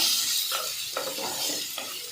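Ginger and garlic being sautéed in a pan, a steady hot sizzle with a few rhythmic scraping strokes of a spatula stirring, close and fairly loud, no voices.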